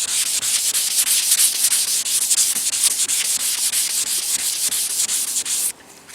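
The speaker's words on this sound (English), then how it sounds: "I'm just gonna wet sand it whenever it turn dull" Wet sanding of a car body panel with 400-grit sandpaper during a candy apple red paint job on a Chevy Silverado truck: steady, close rhythmic rubbing strokes in a crisscross pattern that stop abruptly near the end.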